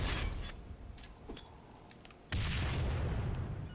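Grenade explosion in Halo 3 on the Longshore map, a single heavy boom that bursts in partway through, preceded by quieter game thuds and pops.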